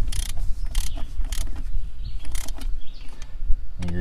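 Ratchet wrench tightening intake bolts on a BMW M44 engine in an E36 318i, quick bursts of clicking repeated several times, close and fairly loud, with brief pauses between strokes.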